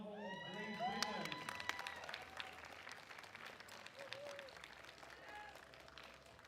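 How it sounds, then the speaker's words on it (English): Audience applause rings out for the bench press medallists on the podium at a European women's 84 kg classic powerlifting championship, with steady clapping and scattered cheers from the crowd throughout. "Another round of applause for our benchers, podium holders."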